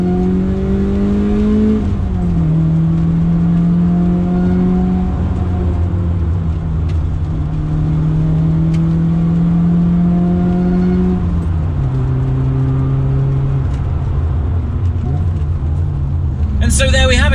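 A BMW E30 M3 Cecotto edition engine pulls hard and loud from inside the car, its note climbing steadily, dropping briefly at each gear change, then building again through several shifts.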